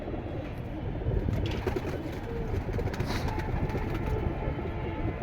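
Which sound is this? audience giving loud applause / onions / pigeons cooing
pigeons cooing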